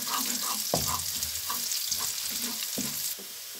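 Hot chili pepper sizzles and fries in a pan with oil, a steady loud crackling hiss broken by several sharp stirring scrapes and clatters, with no voices.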